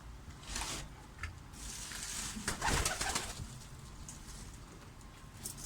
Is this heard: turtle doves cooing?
yes